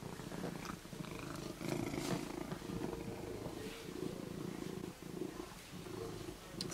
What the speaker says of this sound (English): I hope you can hear me over Toffee's purring